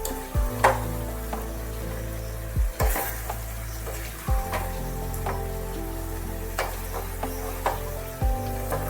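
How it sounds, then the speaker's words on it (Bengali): Vermicelli upma with salt and sugar stirred in a frying pan, giving a constant soft sizzle punctuated by occasional dull knocks and scrapes of the spoon against the pan, close and without any voices. "নুন আর চিনিটা দিয়ে ভালোভাবে একটু নাড়িয়ে চাড়িয়ে দিচ্ছি।"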